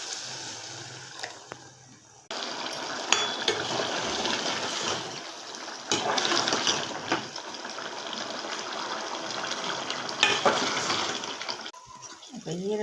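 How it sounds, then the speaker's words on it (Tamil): Hot water poured into chicken liver gravy in a cooking pan makes a steady, close hiss and splash of running liquid lasting several seconds, then tapers off at the end. "இப்போ நம்ம சுடு தண்ணி ஊற்றி வேக வச்சுக்கலாம்."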